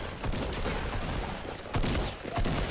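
Rapid bursts of gunfire from an online shooter game crackle over a dense, busy mix, with sharper volleys near the end and no clear talk.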